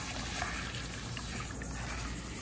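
Water runs steadily out of a hose during a bath, a constant broadband splashing and trickling wash that stays loud and close for the whole stretch, with no pauses.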